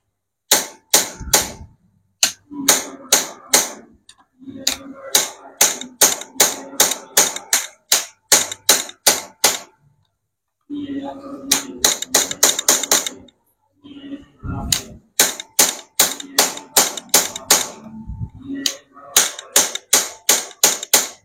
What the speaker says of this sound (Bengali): স্ক্রুর মধ্যে আমরা দেখি একটু টাকটুক দিয়া